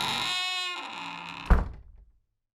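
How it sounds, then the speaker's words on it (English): A washing-room door being pushed shut at night in a bathhouse, landing as one solid thunk with a brief rattle that fades quickly, following a steady hum that stops just before. "closed the open door of the washing room"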